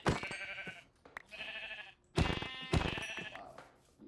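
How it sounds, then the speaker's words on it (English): Sheep in the video game Minecraft bleat in four or five separate drawn-out baas, loud and close, with short pauses between them and no speech. "Wow, I've got a lot of different colored sheep."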